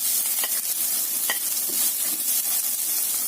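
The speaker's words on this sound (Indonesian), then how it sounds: "Saya akan tumis bawang bombay, wortel," Onion, carrot and garlic sauté in hot oil with a dense, bright hiss, and a couple of soft scrapes from stirring break through the sizzle, close by with no voices.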